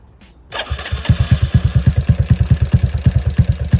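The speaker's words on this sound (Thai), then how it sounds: "เราจะฟังฟังเสียงเครื่องนั้นหน่อย" A Honda Dream Super Cub motorcycle engine cranks and catches, then settles into a loud, steady, pulsing idle close by.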